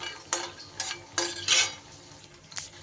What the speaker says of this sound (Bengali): বড়ি কিন্তু আমার বেশ সুন্দর করে ভাজা হয়ে গেছে।